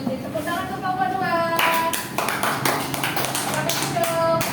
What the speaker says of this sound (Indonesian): Jadi, tepuk tangan untuk kelompok 2.